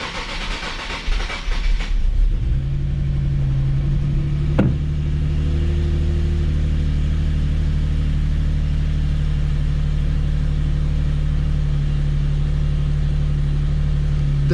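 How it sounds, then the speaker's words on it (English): A Nissan 370Z NISMO engine cranks and catches, then settles into a steady, loud idle with a constant low drone, heard up close, after a limp mode issue. "we're just gonna start the car"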